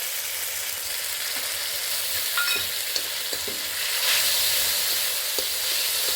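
Mustard paste fries with onions and a splash of water in a pan for a sour boal fish curry, making a constant loud sizzle with occasional light stirring taps, and no voices.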